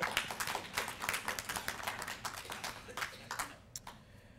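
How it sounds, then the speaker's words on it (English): An audience applauds at a talk on surveillance and domestic spying, a faint, fairly small round of dense clapping that keeps going for several seconds and then thins out to a few scattered claps. "You can applaud for that, it's okay."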